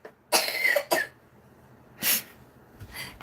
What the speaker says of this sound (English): As she coughs.